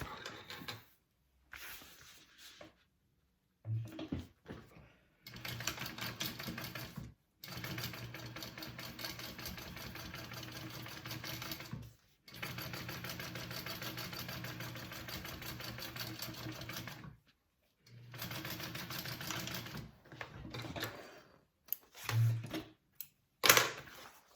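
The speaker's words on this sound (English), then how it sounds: "Now I'm going to top stitch along this, and then I'm going to baste it down" A sewing machine top stitches and bastes pieces of a circle bag, running in several sustained bursts of steady mechanical whirring separated by short pauses, fairly close and alone without talk.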